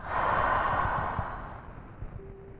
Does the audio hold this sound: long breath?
yes